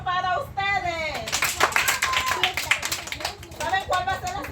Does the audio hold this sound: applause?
yes